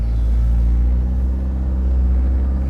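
A big-turbo Saturn Sky Redline GXP on a 3-bar tune with new neoprene-bushed motor mounts cruises along in normal driving, its engine and road rumble heard from inside as a constant low, loud drone.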